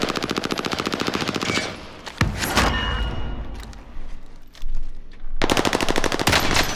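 Gunfire in Call of Duty Warzone's Rebirth mode: rapid automatic bursts rattle loudly at the start, give way to heavier shots and impacts mid-clip, then a fast machine-gun burst returns near the end.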